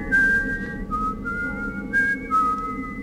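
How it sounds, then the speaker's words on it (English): A character in the stealth video game Thief: The Dark Project whistles a short, wavering tune in several brief phrases, clear and fairly close, with no talking over it. "after you stop whistling"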